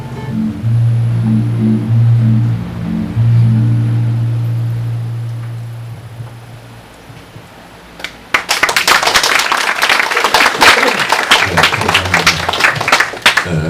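An audience at a Korean theatre award ceremony bursts into loud, dense applause partway through, after a stretch of low steady hum, and the clapping keeps going to the end.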